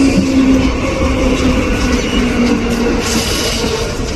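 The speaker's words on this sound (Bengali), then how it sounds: "ভালো স্পিডে ঢুকলো ট্রেনটা" A Naihati-Majerhat local train pulls into platform four at Dum Dum Junction at good speed, with a loud, steady, close rumble and a low hum.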